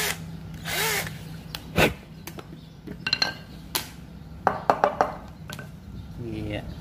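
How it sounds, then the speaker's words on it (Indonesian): A hole is drilled in the middle of PVC pipe while assembling a pump, short bursts of drilling and scraping with sharp knocks and clinks of tools, close and intermittent, with a voice speaking in between. "Sekarang kita lubang pas tengahnya ya, pas tengah ini, lubang di sini."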